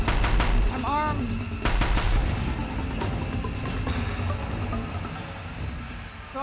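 Rapid bursts of gunfire in the video game Horizon Zero Dawn, loud and dense early on, then continuing under game noise as a player's voice talks.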